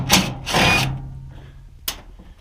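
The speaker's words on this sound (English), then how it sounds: "you can just take off all these screws over here, and this back panel should come right off." A power drill backs screws out of the rear panel of a washing machine, giving two short whirring bursts close by, followed by a brief third spin after a pause.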